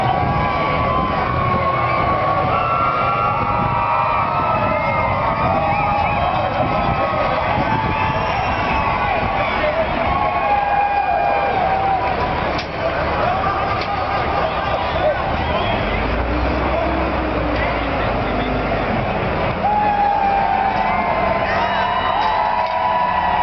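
A crowd at a construction job site reacts with loud shouting, cheering and whoops after vehicles crash and lift at the front, a dense continuous babble of many voices with no pause.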